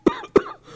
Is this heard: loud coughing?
yes